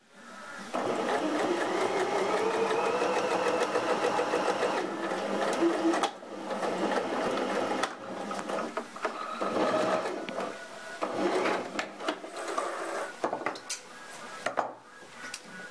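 A sewing machine stitches fabric and wadding for an egg warmer, running steadily and close for about six seconds, then continuing in shorter start-stop bursts with brief pauses.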